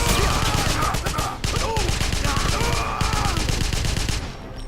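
Rapid bursts of video game gunfire inside a house, loud repeated shots in quick volleys with a short gap midway, then trailing off at the end.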